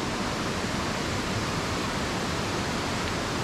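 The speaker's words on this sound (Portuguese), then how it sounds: "Olha o rio aí, galera." A river rushes past on the Fazenda Mar Virado farm, a steady, dense broadband roar of flowing water that stays even and fairly loud throughout, with no voices.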